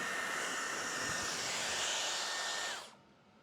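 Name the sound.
hair dryer drying hair roots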